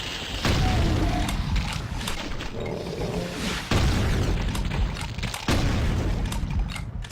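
A double-barrel shotgun fires in the game Doom 2, giving three sharp booming blasts spaced a few seconds apart, with clanking reload mechanisms and game noise between the shots.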